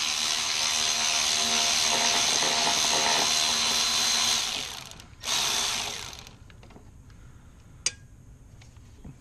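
A power tool zips out a 10 mm bolt holding a car's power steering reservoir. It runs as a loud, steady whir for about four seconds and gives a short second burst, then falls quiet apart from one faint click.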